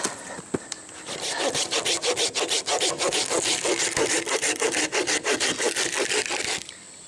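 Hand saw cutting through branches of an Osage orange tree while clearing a shooting lane, a steady run of rhythmic back-and-forth strokes, close and loud, with no talking.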